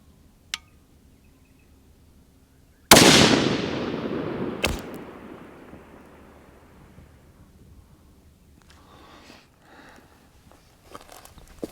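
A Thompson Center 6.5 Creedmoor rifle fires a 140-grain Hornady ELD Match round outdoors, a single sharp, loud crack that rings out and decays slowly, with faint clicks before and light rustling and footsteps after.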